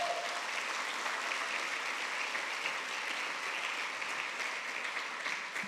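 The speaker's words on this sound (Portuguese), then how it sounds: "para aplaudir Jesus, para aplaudir Jesus" Church congregation at a healing service applauds Jesus, a continuous, even wash of many hands clapping, moderately distant and steady throughout.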